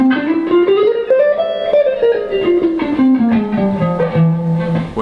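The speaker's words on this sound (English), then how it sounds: "But the altered scale sounds like this." Guitar running through the altered scale in position, a continuous line of plucked notes rising and then falling over about five seconds, close and steady with no talking.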